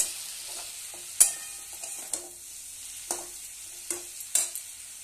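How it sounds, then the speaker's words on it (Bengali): Vegetables frying gently in a pan over low heat: a soft, quiet sizzle punctuated by several distinct sharp clacks and scrapes of stirring. "আঁচটি একটু কমিয়ে দিচ্ছি, বুঝলি। কম আছে, কিছুক্ষণ ভাজবো।"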